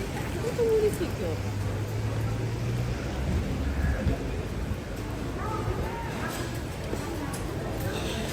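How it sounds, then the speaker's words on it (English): Steady drizzling rain falls over a busy Yokohama Chinatown street in Japan, a constant soft wash of drops on umbrellas with crowd murmur and voices talking throughout. "Lots of umbrellas. It is drizzling consistently."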